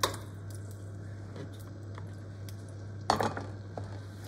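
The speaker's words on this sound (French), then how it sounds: "Dans une poêle avec de la matière grasse, je vais commencer par faire cuire les foies de volaille." Chicken livers cooking in fat in a frying pan, a soft steady sizzle under a low hum with occasional clinks and scrapes of a utensil against the pan.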